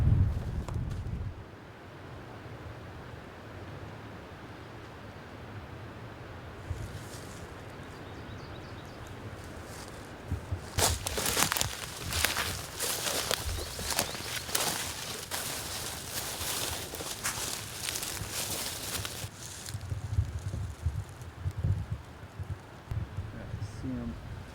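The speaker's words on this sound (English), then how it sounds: "So nice and windy, that'll cover all of our sound" High wind gusting outdoors during a turkey hunt stalk, a steady rush that builds into loud, buffeting gusts midway and then eases; no footsteps stand out clearly beneath the wind.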